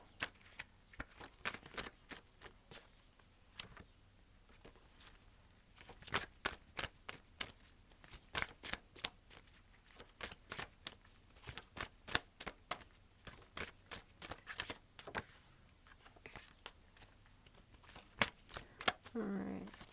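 Oracle cards are shuffled and drawn by hand, a long run of quick crisp riffling snaps and flicks in irregular bursts, close and fairly soft, without talking.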